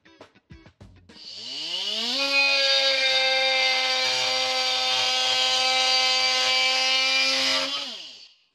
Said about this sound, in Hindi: घूमने वाले सिर का इस्तेमाल लगभग किसी भी तरह के मटेरियल को बिल्कुल सटीकता से काटने के लिए किया जा सकता है, जैसे कि लकड़ी, ड्राईवॉल